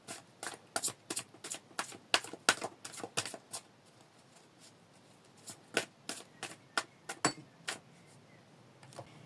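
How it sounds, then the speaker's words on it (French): Oracle cards being shuffled and drawn by hand, a long run of crisp, close, irregular card slaps and riffles with a brief quieter pause in the middle, no voices. "je vais aller chercher une carte d'oracle"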